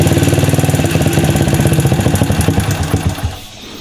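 A Honda Supra motorcycle engine, suspected of a leaking valve, idles up close with a fast even chugging pulse that slows and fades as it is shut off near the end.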